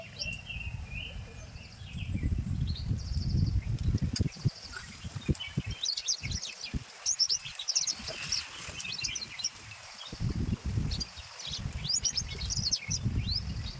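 Many quick sparrow chirps twitter high and busy throughout, over a low, gusty rumble of strong wind buffeting nearby on the Konkan coast.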